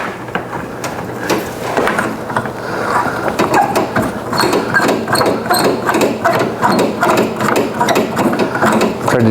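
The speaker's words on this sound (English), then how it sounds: "Whizzer wrench." A whizzer wrench ratchets steadily in rapid clicking bursts, close and loud, while interior parts are removed from a 1970 Chevrolet El Camino.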